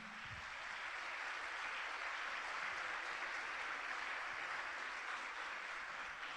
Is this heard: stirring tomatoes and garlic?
no